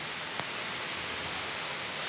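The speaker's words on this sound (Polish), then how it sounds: "Leje." Heavy rain pours down steadily outdoors, a dense, even hiss with no break and a single faint knock near the start.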